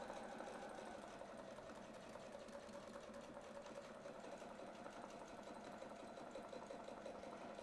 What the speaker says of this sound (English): we're going to sew around